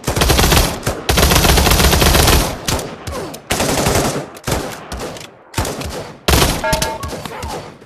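Rapid automatic gunfire from a heavy-recoil gun in a Quest 2 VR shooter, loud dense bursts with brief gaps between volleys and a few metallic clinks near the end.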